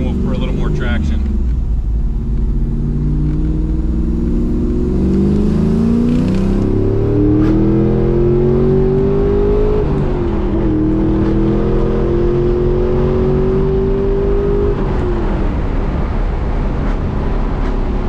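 Camaro SS under rebuild with new wheels, tires and alternator, engine accelerating hard in second gear; a loud rising rev climbs in pitch, eases off briefly, then climbs again before falling away, steady and close.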